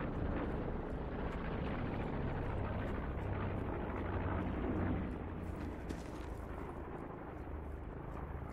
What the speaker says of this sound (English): Problem is there's a lot of noise from these planes.